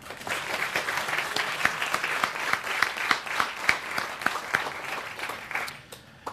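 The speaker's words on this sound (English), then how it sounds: "we do want to give a round of applause for Lee Armstrong." An audience at a Valentine's evening event breaks into steady, sustained applause, dense clapping filling the room at close range before tapering off at the end.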